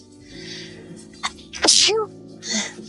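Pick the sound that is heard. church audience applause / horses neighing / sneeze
sneeze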